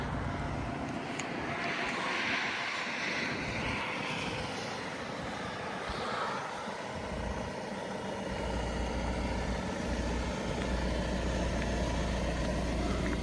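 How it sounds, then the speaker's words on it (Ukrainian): A steady, continuous 2.0 diesel engine hum from an Audi A4 allroad quattro idling runs throughout, low and even with no revving, recorded close with some wind-like noise. "Мотор працює чітко, рівненько, як можете чути"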